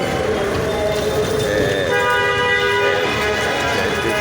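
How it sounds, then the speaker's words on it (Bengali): Traffic surging over a railway crossing right after a train has passed, a steady loud roar of engines close by with horn toots sounding through it. "ট্রেন যাওয়ার পর কীভাবে দ্রুত বেগে গাড়িগুলো যাইতেছে"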